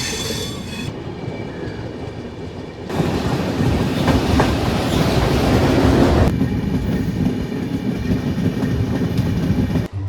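The 13021 Mithila Express pulls out of Bapudham Motihari station running late, rolling loudly with rhythmic clickety-clack of wheels on rail joints and a thin squeal of wheels, the rumble swelling and shifting as the carriage gathers speed.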